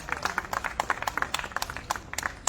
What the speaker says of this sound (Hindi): एक बार जोरदार तालियों से हमारी बहन का स्वागत करें